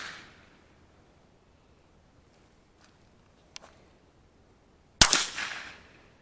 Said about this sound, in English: So while Eli's doing that, we have a orange target set up. We have a nice little berm here, a little backstop that he's going to be shooting into